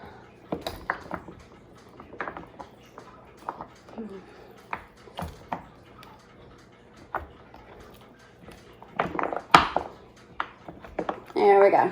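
A knife cutting melt-and-pour soap base into small pieces, with irregular sharp taps and thuds of the blade striking the board, spaced unevenly and louder toward the end.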